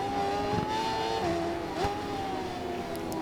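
A BMW S1000RR motorcycle racing on a drying Nürburgring track in the video game Ride 4, its engine holding a high, steady whine that dips briefly on a gear change before climbing again, loud and continuous.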